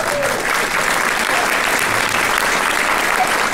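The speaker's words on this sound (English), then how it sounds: "give them a round of applause" An elementary school concert audience gives loud, sustained applause for the first grade staff, a thick, even roar of many hands clapping without pause.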